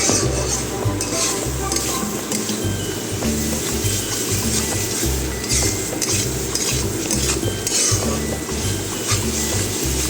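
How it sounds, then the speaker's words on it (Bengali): A utensil scrapes and stirs spice paste steadily in a wok (kadai) for baby potato aloo dum, with a soft sizzle underneath and rhythmic metallic scraping. "মশলাটি কষাতে আরও সুবিধা হয়"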